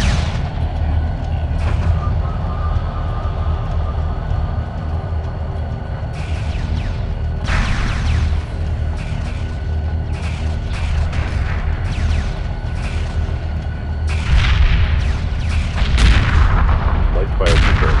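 Weapon fire in the space strategy game Homeworld Remastered booms steadily in heavy, continuous volleys, loud and dense throughout, with bursts of sharper blasts layered over a deep rumbling bed.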